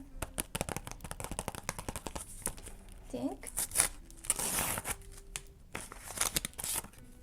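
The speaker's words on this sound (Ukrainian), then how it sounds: "І відкриваємо ми пакетик з керобі" A paper sticker packet being torn open and unwrapped by hand, close crinkling, rustling and tearing of paper in quick irregular bursts, with a brief spoken word in between.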